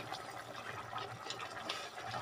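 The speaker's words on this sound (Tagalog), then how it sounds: "Kasi lagyan ko ng tubig." Water runs steadily into a pot of spicy pork and chicken adobo simmering with soy sauce and bay leaf, a soft continuous splashing pour, fairly quiet and without talk.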